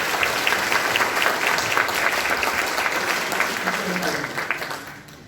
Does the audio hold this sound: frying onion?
no